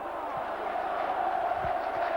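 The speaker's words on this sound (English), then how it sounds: "where the crowd is so parochial" A rugby league crowd at Bradford roars in a steady, dense wash of noise during a 2002 match against St Helens, with a few louder shouts rising briefly from the stands.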